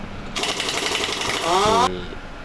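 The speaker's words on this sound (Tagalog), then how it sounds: "Impact na natin mga master para mabilis matapos." An impact wrench rattles in one loud burst of about one and a half seconds, its pitch climbing as the motor spins up, while dismantling an aluminum 6L80 automatic transmission in a workshop.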